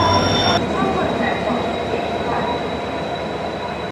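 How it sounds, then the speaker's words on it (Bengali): The Kriya Yoga Express pulling into a station platform, a loud close rumble of rolling coaches and wheels with a high metallic squeal running through, continuous throughout. "এই যে আমাদের ট্রেন ঢুকছে ক্রিয়া যোগা এক্সপ্রেস।"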